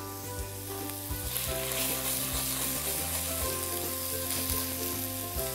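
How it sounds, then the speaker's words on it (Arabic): Lamb pieces frying with onions in a pan, a dense continuous sizzle with low rhythmic clanks from stirring running throughout, close and without voices. "خليه يتقلى مليح مع البصل هو تاني"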